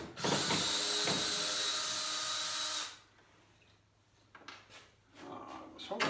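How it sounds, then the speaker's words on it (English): Power drill whirring steadily for a few seconds while driving screws upside down into a wooden rabbit hutch, close and loud, then stopping, followed by a few light knocks and handling sounds. "Screwing upside down."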